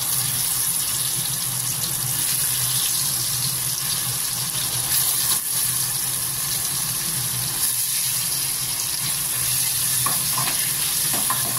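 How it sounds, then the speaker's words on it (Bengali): Paneer lightly frying in a frying pan, an even, steady sizzle and hiss close to the pan, with a few soft utensil taps toward the end. "আর ফার্স্টেই আমি পনিরগুলোকে হালকা ফ্রাই করে নেব।"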